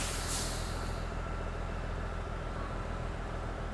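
A truck with air brakes sits close by, its engine rumbling steadily while a sharp burst of air-brake hiss rises at the start and then fades into the ongoing drone.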